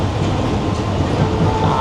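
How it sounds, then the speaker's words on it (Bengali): Mumbai local train running at Andheri railway station, a loud, close, continuous rumble of carriages with rhythmic wheel clatter on the tracks. "আর এই হচ্ছে মুম্বাইয়ের লোকাল ট্রেন।"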